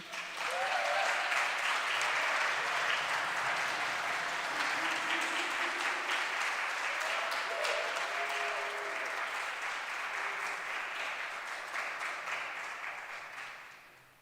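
Applause from a festival audience after a live poetry reading, a long steady round of clapping that holds for over ten seconds before tapering off, with scattered faint cheers.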